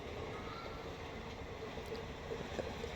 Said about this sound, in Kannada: ರೈಲ್ವೆ ಗೇಟ್ ಹಾಕಿಂದ ಟ್ರೈನ್ ಸ್ಪೀಡಾಗಿ ಹೋಗ್ತಾಯಿದೆ ಗಾಯ್ಸ್